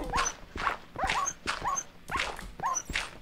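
Dogs in the Minecraft video game give about five short, repeated barks and whimpers in a steady rhythm, close and clear, with no talking.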